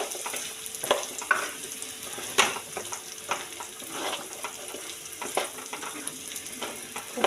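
Cauliflower being stirred in a pan for a gravy, a soft continuous sizzle broken by repeated scraping and tapping strokes of the spoon, fairly close and without any voices.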